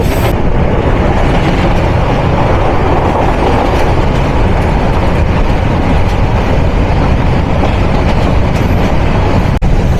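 The Burimari Express intercity train rumbles steadily past at close range, a dense, continuous roar of wheels and carriages that holds loud for the whole stretch.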